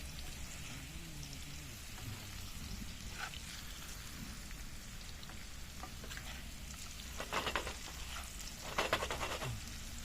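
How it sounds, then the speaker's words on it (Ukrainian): Potatoes fry in a pan outdoors, giving a continuous dense sizzle and crackle throughout, with a few louder spattering bursts toward the end and no talking. "Та картошка вже піджарилась."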